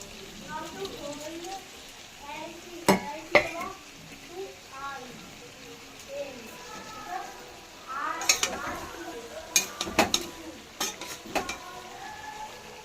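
Paneer curry cooking in a pan, a soft sizzle with intermittent spoon scrapes and clinks against the pan while a person talks over it.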